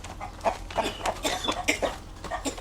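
Fighting cocks at a Thai cockfight cluck and squawk in a quick series of short, sharp calls, fairly close and moderately loud, about eight bursts over a faint background.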